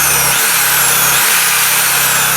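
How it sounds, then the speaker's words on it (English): An electric drill plugged into a lithium battery power setup runs continuously with a loud, steady motor whine and a couple of slight dips in pitch. "So I've got a drill plugged in."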